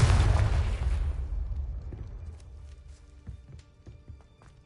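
The Confringo explosive spell in Hogwarts Legacy goes off in a loud, booming burst that rumbles and fades over a couple of seconds, followed by scattered small pops and ticks.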